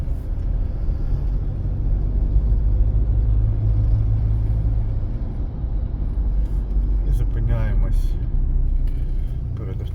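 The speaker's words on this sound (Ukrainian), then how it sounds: "вмикнули правий покажчик повороту і дотримуючись розмітки, рухаємося прямо" A car driving along a city road in Ternopil during a practical driving exam route: a steady low engine and tyre rumble from inside the cabin, continuous and moderately loud, with a brief clicking turn signal later on.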